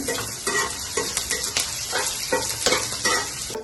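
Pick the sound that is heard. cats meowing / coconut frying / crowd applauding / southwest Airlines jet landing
coconut frying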